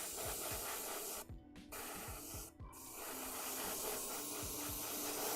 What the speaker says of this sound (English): Just the right amount of spray.